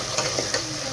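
Chicken with chillies frying and being stirred in a pan, a dense close sizzle broken by quick scraping strokes of the spoon.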